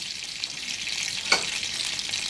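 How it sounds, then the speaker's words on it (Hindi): Ghee heats in a pan for a tadka tempering, giving a steady, even sizzle and crackle throughout with one brief sharper pop midway, close and alone with no talking. "मैंने ना पैन ले लिया और उसके अंदर ना ये घी डालने लगी हूँ तड़के के लिए। ठीक है ये गरम होता है।"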